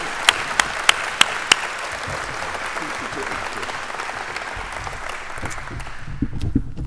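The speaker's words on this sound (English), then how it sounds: "Let's give her a round of applause." An audience at a 2018 State of the City event in El Segundo applauds. Sharp separate claps come first, then dense, sustained clapping that fades toward the end, with a voice briefly over it.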